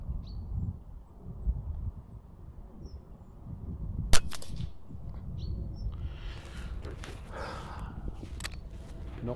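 A TX200 air rifle fired at a target 100 yards away on a long-range outdoor shoot: a single sharp crack midway through, alone over quiet outdoor ambience with faint birdsong.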